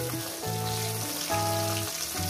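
Bata fish frying in hot oil with vegetables such as potato and beans nearby, giving a steady, close sizzle throughout with faint tonal hum lines under it.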